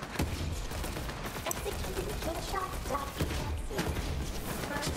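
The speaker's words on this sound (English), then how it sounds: "this shotgun is really good too" Rapid shotgun blasts and a dense barrage of gunfire in the Borderlands 3 video game, loud and continuous, with clustered bursts near the start and again toward the end, under game effects.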